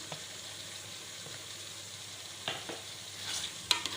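White lobiya beans stir-fried with minced meat qeema in a pan, giving a soft, steady sizzle with a few brief scraping clatters from stirring near the end.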